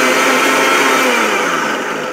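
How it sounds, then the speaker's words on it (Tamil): An electric kitchen mixer blending lemon, mint and sugar into juice, a loud, steady whirring drone held for about two seconds up close, easing slightly toward the end with no talk over it. "மிக்சியில் போட்டு நம்ம வந்து கரெக்டாக ஒரு 2 செகண்ட் மிக்ஸ் ஆன அளவுக்கு எடுத்தால் போதும்"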